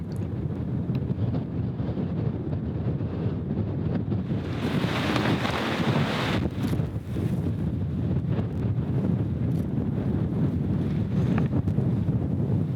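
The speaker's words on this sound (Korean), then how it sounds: "어마어마하게 바람이 불고 비바람이 몰아치는데" Strong gusting wind roars steadily against a thin camping tent during a rainstorm at a campsite in Torres del Paine National Park, Patagonia, with buffeting rising to a louder burst midway.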